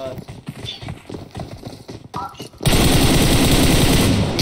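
Bursts of video-game gunfire from a shooter match, a player caught by shots fired from an apartment; the first half is busy with mixed game noise and talk, then a loud, dense, sustained volley of rapid shots takes over.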